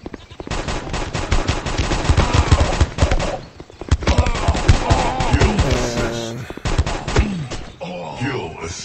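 Rapid automatic gunfire in the mobile shooter game Guns of Boom, loud bursts of machine-gun fire repeating through most of the stretch with brief pauses, mixed with game music and player talk.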